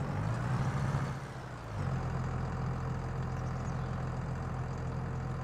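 Tractor engine idling in Farming Simulator 22, a low steady mechanical hum with a slight dip in revs around the one-second mark before settling back into an even, moderately quiet drone.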